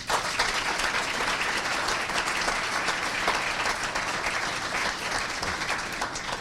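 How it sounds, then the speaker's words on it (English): An audience at a State of the City address applauds city leaders, a long, dense, even roar of many hands clapping that holds steady throughout, moderately distant. "please, a great applause to our city leaders"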